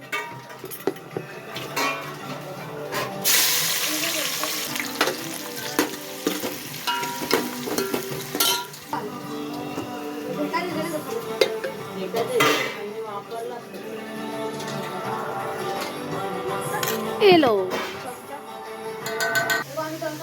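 Finely chopped tomato added to fried onion sizzling in a pan: steady frying hiss with frequent clinks and scrapes of a spoon against the pan, close by, and voices talking at times.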